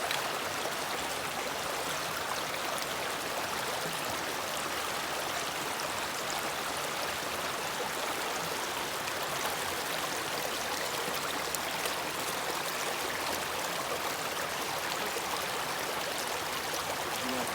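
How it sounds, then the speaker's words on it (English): Fast-moving stream water rushing over a trail crossing, a steady, dense broadband wash that stays even and close throughout with no voices. "he's got a little fast moving water section right there"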